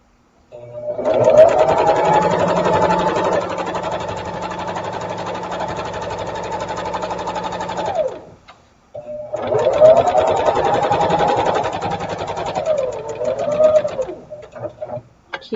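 A sewing machine stitches a straight seam joining two fabric strips for a quilt, running in a steady, close, rapid hum for about eight seconds, pausing briefly, then running again before slowing to a stop.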